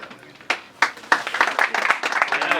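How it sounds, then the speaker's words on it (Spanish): An audience applauds Víctor Hugo Morales at a public appearance in Baradero, Argentina, with sharp bursts of clapping that build into steady, fairly close applause. "Aplaudiéndolo aquí a Víctor Hugo Morales"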